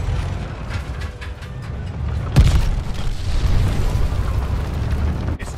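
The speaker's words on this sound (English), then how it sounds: "Enemy's got a glide bomb incoming." Glide bomb explosion in a video game: a deep rumbling boom hits sharply midway, followed by sustained heavy low-frequency roar and debris noise that lingers for several seconds.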